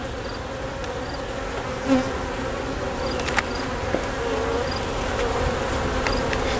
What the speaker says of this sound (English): There's just so many bees in here that they got no room.